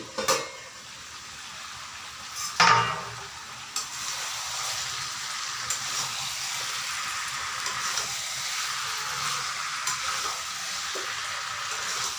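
Chicken feet cooking in a pan are stirred, a continuous sizzle broken by sharp scrapes and knocks of the utensil against the pan, louder clatters early on, then steady frying with occasional stirs.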